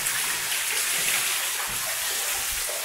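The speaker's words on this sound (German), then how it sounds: "Und hier ist nochmal ein zweiter Wasserfall" A small waterfall runs inside an underground tunnel of a former V2 rocket fuel depot, giving a steady, soft rush and splash of falling water that stays constant, with no voices.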